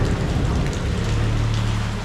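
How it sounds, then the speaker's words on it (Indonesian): Steady rain pours down in a dense, even hiss of drops striking a surface, loud and continuous, with a low hum beneath and no voices. "Jadi hujan."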